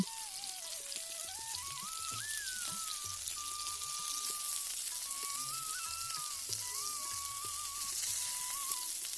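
Rohu fish paturi wrapped in pumpkin leaf fries in a pan over low to medium gas flame, giving a steady, soft sizzle throughout with small crackles and pops, close by and with no talk.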